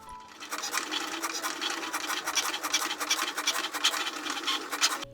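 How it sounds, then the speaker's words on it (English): A Cricut cutting machine cuts spirals from coloured paper on a light-grip mat, giving a close, continuous scratchy whir with rapid rhythmic ticks as the blade carriage moves back and forth. "And the Cricut will cut out those spirals."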